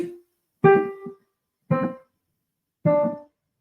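Three separate piano notes in right-hand C position struck with uneven gaps between them, each ringing briefly and fading, after a short earlier note at the very start.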